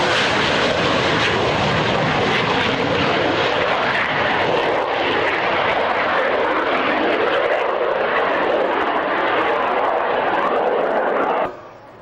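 Pair of delta-wing jets roaring past at an airshow at Kemble Airfield, a loud, continuous broadband engine rush that holds steady throughout and cuts off sharply at the end.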